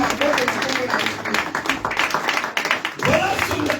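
A church congregation claps and cheers in acclaim, loud, dense rhythmic clapping mixed with voices and shouts, swelling again toward the end.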